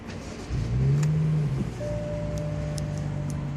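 A BMW 435i convertible engine cranks and catches, revving briefly before settling into a steady, smooth idle heard up close, with a faint whine running under it.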